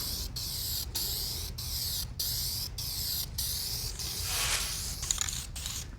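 Vinyl dye is sprayed from an aerosol can onto the interior of a full-size Bronco in a series of short, sharp hissing bursts with brief pauses between them, close and fairly loud, with no talk.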